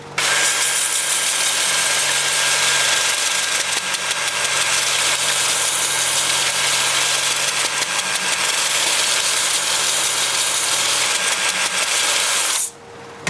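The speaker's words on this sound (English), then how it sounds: "with the lathe spinning in reverse at about 350" A wood lathe runs in reverse at about 350 rpm while turning very hard wood, giving a steady loud motor whir and hum that holds for the whole stretch and then cuts off near the end.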